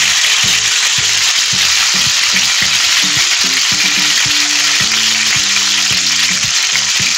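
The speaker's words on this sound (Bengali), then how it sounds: "আন্দাজ মতো নুন, অল্প জল দিয়ে কষিয়ে নেব।" Spices with tomato paste, turmeric, chili powder and salt sautéing for pabda fish jhal, a loud, dense continuous sizzle close up with intermittent scraping stirs underneath.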